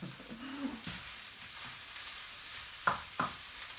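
Shrimp fried rice is stir-fried in a pan, with a soft sizzle beneath scraping stir strokes and two sharper clacks near the end, fairly quiet and close.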